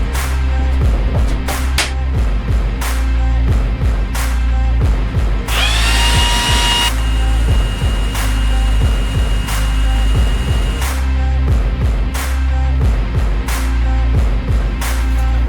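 A Milwaukee cordless leaf blower roaring loudly and continuously close by, its motor whine rising sharply partway through before settling back.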